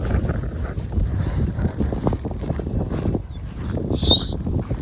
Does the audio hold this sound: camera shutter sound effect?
no